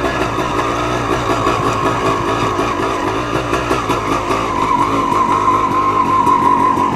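A motocross bike engine runs at a high, steady idle, a loud close buzzing drone that holds throughout with a slight rise in pitch toward the end.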